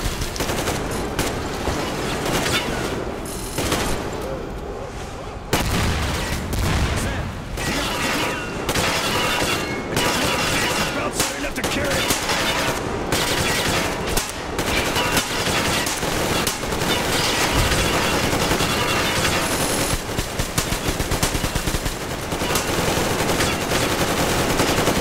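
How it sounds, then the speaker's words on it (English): Gatling gun in Metro Exodus firing in long sustained bursts, loud and dense, mixed with other gunfire and crashing impacts throughout, with only brief pauses and no talking. "looks like Sam found the Gatling gun of his own"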